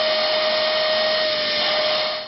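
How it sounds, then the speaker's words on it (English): A vacuum cleaner sucks bed bugs out of the seams of a couch, its motor giving a loud, steady whine with a sharp tonal hum that holds level until it tapers slightly at the end. "One way of getting rid of them, the good old vacuum cleaner."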